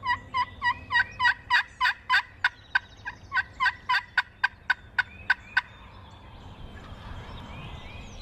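Wild turkeys gobble in a rapid, loud string of about twenty rattling calls close by, one bird's bursts overlapping another's, then trailing off into quiet outdoor ambience.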